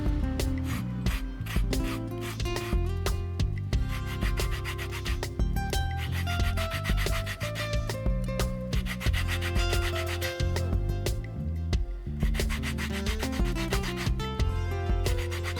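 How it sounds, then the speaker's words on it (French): Small lemon zester rasping steadily against lemon peel in a home kitchen while baking carrot cake, a continuous scraping texture running under prominent background music with no talking. "je vais m'amuser à râper du citron avec une petite râpe que j'ai retrouvée par hasard"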